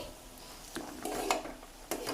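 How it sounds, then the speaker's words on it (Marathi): A utensil clinks and scrapes against a metal pot in a few brief, separate strokes, with a soft bubbling hiss underneath and no voices. "ह्याला असं हलवायचं तर ते उतू जाणार नाही"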